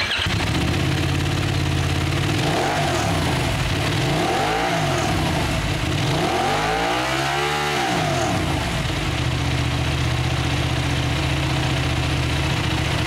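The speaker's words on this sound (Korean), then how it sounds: "배기음 한번 들어보시죠." A Benelli Leoncino 800, an 800cc two-cylinder motorcycle, idles with a deep, steady exhaust note and is blipped through several rising and falling revs, with one larger rev in the middle, recorded up close and loud.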